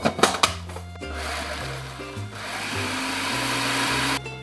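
A food processor pulses almonds, coconut and salt in short, loud motor bursts, stopping and restarting in a choppy rhythm before running a little longer at the end.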